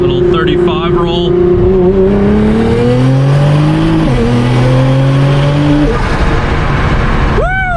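A 1300 BHP Nissan R35 GTR running E85 accelerates at full throttle in a roll, its engine droning loudly with rising pitch and a shift partway through, close up from inside the car.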